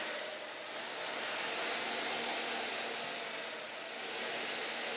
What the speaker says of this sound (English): blow drying it coming down